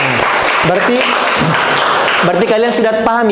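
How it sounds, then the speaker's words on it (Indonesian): Students applaud in a classroom during a teaching session, a dense burst of clapping that continues under a lecturer's voice as he speaks over it. "tepuk tangan"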